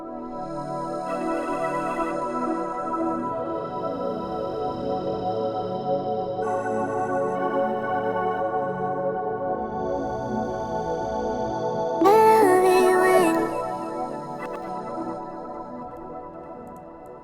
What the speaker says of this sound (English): I started with this main pad